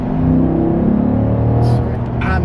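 A C8 Corvette idling with a deep, steady rumble in Sport Plus mode, the engine lightly revved and held close and loud, with brief higher-pitched noises near the end.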